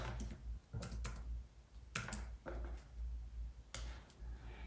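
Computer keyboard typing in short bursts of clicks separated by brief pauses, close and fairly quiet, with no voices.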